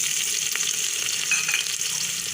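Okra and potato fry in a pan and give a steady, close hiss of bright crackling sizzle throughout. Faint stirring scrapes sit under the hiss, and no one speaks.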